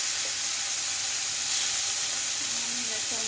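Chopped boiled spinach frying with garlic in a pan gives a steady, close broadband sizzle that holds evenly throughout, with faint stirring beneath.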